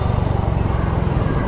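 A secondhand Raider 150 Fi motorcycle engine idles close by with its exhaust covered, giving a loud, steady low rumble with a fast, even pulsing beat.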